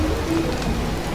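Steady rain hisses in the survival video game Don't Starve, a continuous soft wash of falling drops at even loudness with a low hum beneath, with no voices over it.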